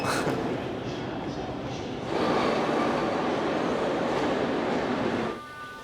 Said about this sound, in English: First we take the metro and it costs 10 cents